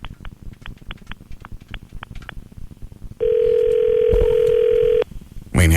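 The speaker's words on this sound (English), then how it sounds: "I didn't dial enough numbers." Telephone handset gives a short run of dial clicks and taps after a misdial, then a loud, steady dial tone drones for about two seconds and cuts off abruptly.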